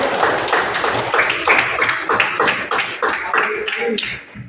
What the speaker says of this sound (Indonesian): tepuk untuk doa itu